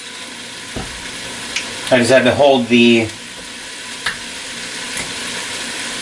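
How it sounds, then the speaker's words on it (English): Bacon sizzles in a pan for pasta e fagioli, a steady close frying hiss throughout, with someone speaking briefly over it midway and a few small clinks. "I can already hear the bacon starting to sizzle."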